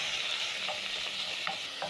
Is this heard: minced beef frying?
yes